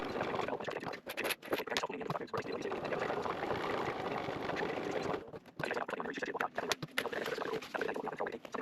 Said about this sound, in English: I'm going to do a second line of reinforcing stitching just next to the other one inside the seam allowance